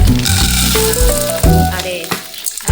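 Onion and garlic sautéing in margarine in a hot pan for a soup, a loud, close, steady sizzle with the clatter of stirring, and no voices.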